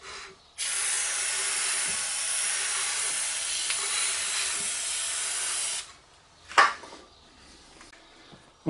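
Brake cleaner sprays onto a rear brake rotor of a Hyundai Santa Fe: one steady, close hiss lasting about five seconds, then a brief clunk of a part being handled.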